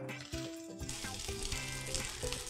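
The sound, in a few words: fried rice with tomatoes frying in wok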